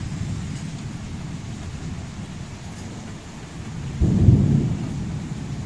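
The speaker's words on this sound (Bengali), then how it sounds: "বৃষ্টি কিন্তু কমেনি, হয়ে যাচ্ছে, আর মেঘ ডাকছে, দেখেছো?" Steady rain falls with a low, distant rumble of thunder underneath, and a heavier thunder roll swells near the end before easing off, with no voices.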